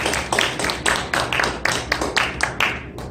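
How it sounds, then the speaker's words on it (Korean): A church congregation claps together during a Sunday morning sermon, sharp individual claps coming in a quick, fairly steady rhythm, close and loud with no talking. "우리 박수 한번 칩시다."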